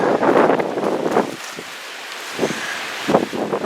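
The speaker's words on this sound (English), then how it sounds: "Way too windy for a hat." Gusty wind buffets the microphone in loud rushing bursts, easing briefly before picking up again in short, rough puffs.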